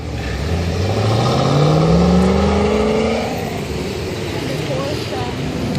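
A Lotus Elise at a car show revs hard, the engine note climbing in a rising whine before easing off, loud and close amid crowd chatter and background noise.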